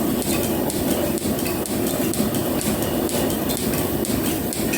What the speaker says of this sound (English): That's peeling a beautiful chip off